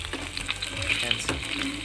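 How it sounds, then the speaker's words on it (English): Pork pieces fry in oil for a crunchy dry fry, a steady close crackle and sizzle with faint stirring, while a voice talks quietly over the cooking. "We need to fry it till it's done."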